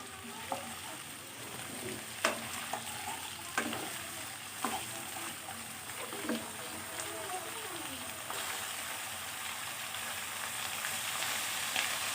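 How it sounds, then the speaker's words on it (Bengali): Drumstick (moringa) pieces stir-fried in hot oil, a soft steady sizzle under periodic clanks and scrapes of a spatula in the pan, fairly quiet and close, with a faint voice in the background. "এখন এই সজনেটাকেও সুন্দর করে তেলের সঙ্গে নেড়েচেড়ে কিছুক্ষণ রান্না করব।"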